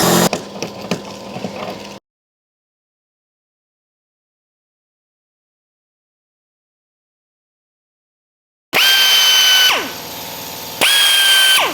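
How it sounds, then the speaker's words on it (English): A power drill with a 7/16 bit bores holes for an M8 rivnut while a side ladder is installed: a loud, close burst of drilling, a long silence, then two more whining drill bursts with a short pause between them. "And then we'll keep drilling with a 7/16,"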